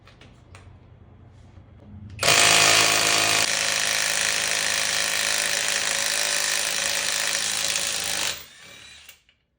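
A cordless Somada impact wrench hammers loose super rusty car lug nuts, a loud continuous buzzing rattle that runs for about six seconds before cutting off, with a brief faint whir near the end.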